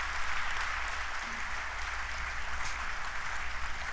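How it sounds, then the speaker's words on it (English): A large audience at a government policy event applauds in a steady, continuous wash of clapping that holds at an even level from start to finish. "Please give a big round of applause."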